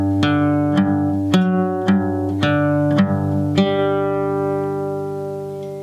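A passage of easy acoustic guitar notes from a bluegrass song, six or so crisp plucks at a steady pace, close and clear, the last note left to ring out and fade, with no voice.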